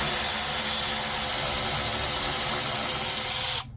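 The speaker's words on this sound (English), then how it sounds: "Instead of using the ratchet, I'm going to use the fancy ratchet." An electric ratchet loosens a car battery terminal, whirring loudly and steadily at close range with a high-pitched motor whine that cuts off abruptly near the end.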